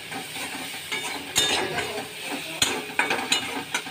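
Kochu changri is stir-fried with cumin powder, chilli powder, salt and sugar, giving a close, steady sizzle with intermittent spatula scrapes and sharp clinks against the pan.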